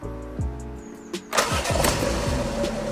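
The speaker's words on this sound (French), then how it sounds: "Et la voiture tourne super rond, c'est très rondouillard." A car engine cranks over and catches, then settles into a smooth, steady idle that continues loud and close, with no talking.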